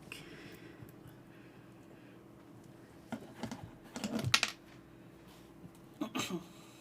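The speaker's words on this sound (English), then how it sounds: "Look at this freaking cute keyboard." Typing on a custom purple K-Pop themed mechanical keyboard: soft clacky keystrokes, with a denser cluster of presses in the middle and a short burst near the end, close and fairly quiet.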